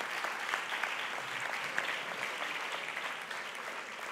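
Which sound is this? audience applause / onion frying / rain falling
audience applause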